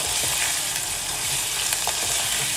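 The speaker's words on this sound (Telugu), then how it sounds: "ఇప్పుడు దీనిలో కడిగి పెట్టుకున్న కరివేపాకు కూడా వేసుకొని ఒకసారి కలుపుకోవాలి" Curry leaves fry in hot oil for a village-style sambar, making a loud, steady sizzle close by, with faint scrapes of stirring running through it.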